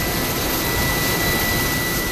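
A rescue helicopter's turbine engine roars steadily and loudly at close range, a dense continuous whine with a high tonal edge, alone with no voices.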